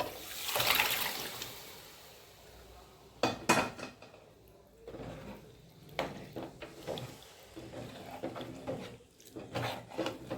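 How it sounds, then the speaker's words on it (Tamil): Chickpeas boiled with salt are tipped into a pan together with their cooking water while making chana masala, giving a few splashy pours and clattering knocks in separate bursts, with no talking. "இந்த சுண்டல் நம்ம உப்பு போட்டு வேக வச்சனால அது நம்ம இதை அப்படி தண்ணியோட கொட்டிக்கலாம்."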